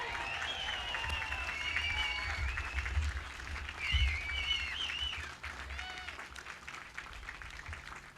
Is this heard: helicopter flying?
no